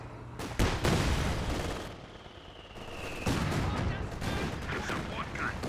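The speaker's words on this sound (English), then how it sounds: "There is the mortar barrage." A mortar barrage in a competitive Company of Heroes-style war match, with Axis and Allies artillery: booming impacts and crackling blasts recur loudly through the clip while a caster talks over them.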